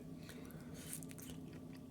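Persimmon fruit from a Zakarpattia grower being chewed close up: soft, wet, steady mastication with small bites, quiet and alone, with no talking.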